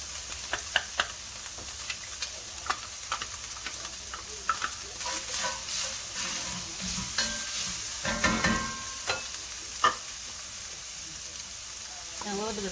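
Minced garlic sizzles with browning steak in a pan for lomo saltado, a steady frying hiss with scattered stirring clicks and scrapes, and a little speech in the background.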